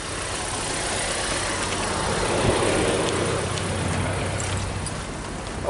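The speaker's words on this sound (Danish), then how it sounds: "Det var bare en bil." A car engine runs near a street, with a broad, steady rumble that swells slightly in the middle as it passes, then settles.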